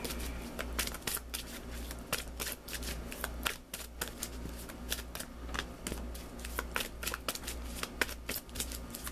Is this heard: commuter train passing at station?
no